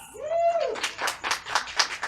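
Scattered clapping and applause from a crowd, starting after a short rising whistle-like tone and continuing in uneven bursts.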